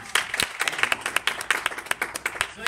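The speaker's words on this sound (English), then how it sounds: "Round of applause." Scattered hand claps from a small karate class, a few quick uneven bursts of close, moderately loud clapping that fade in and out, with some voices mixed in.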